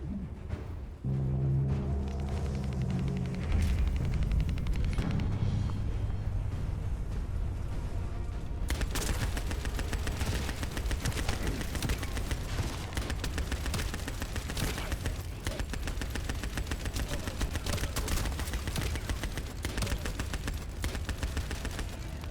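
Sustained crossfire in The First Descendant: dense, rapid automatic gunfire with layered bursts and blasts, loud and continuous, swelling into an even heavier barrage partway through.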